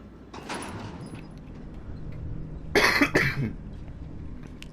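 Close, loud coughing from someone with a cold, a couple of harsh bursts in quick succession in the middle, with quieter rustling and movement before and after.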